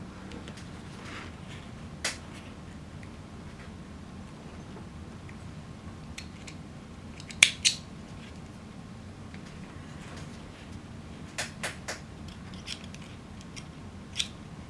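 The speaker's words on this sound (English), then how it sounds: "Get all these threads cut off and move forward." Scissors snip off loose sewing threads on a fabric courier bag, giving a few sharp isolated clicks spread across an otherwise quiet stretch.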